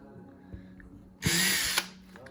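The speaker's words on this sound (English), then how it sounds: "you'll drill a hole every inch on your yardstick" Power drill boring a hole through a wooden yardstick, a close, loud whine of about half a second rising over a quiet background hum.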